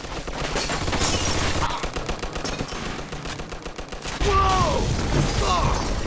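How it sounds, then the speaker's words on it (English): Machine gun fire in the Mafia 2 video game rattles in dense rapid bursts with crashing and mechanical noises, sustained and loud, with a further blast and ringing debris near the end. "Looks like we found the machine gun."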